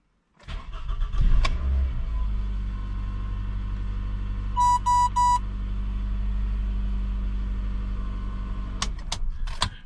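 A Toyota car, started with a newly programmed transponder key, cranks briefly and catches, then settles into a steady low idle, with three quick electronic chimes partway through and a couple of clicks near the end.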